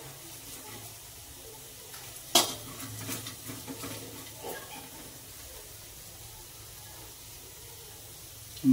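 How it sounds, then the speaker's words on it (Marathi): Spices such as red chili powder and coriander powder being stirred in a pan for a dry jackfruit vegetable dish: a sharp utensil clank against the pan, then soft scraping and stirring with faint sizzling. "चला, हलवून घेऊया आणि चांगलं मिक्स करून घ्या बरं का।"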